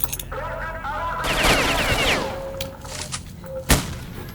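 Gunfire and a grenade blast ring out in the shooter game Stalker: Shadow of Chernobyl, with a dense burst of shots and rumbling detonation noise in the middle, followed by a sharp late thump.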